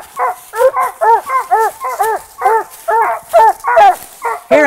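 Several tree dogs bark loudly and close by in rapid, repeated bursts at a squirrel dog competition, with a few higher yips mixed in and no talk over them.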